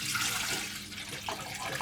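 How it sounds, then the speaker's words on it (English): Water and rose water pour into a food processor bowl, a steady, faint hissing splash of liquid lasting about two seconds with no talk. "I'm going to put the water and the rose water"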